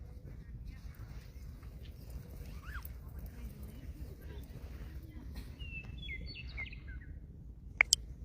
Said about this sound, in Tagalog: gusto ko yung sound ng ganyan. Oo. May ibon